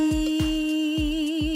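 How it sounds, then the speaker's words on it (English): A sustained two-note interval, a perfect fifth, holds steadily while soft low thumps pulse underneath about every half second. "that's the sound of a perfect fifth."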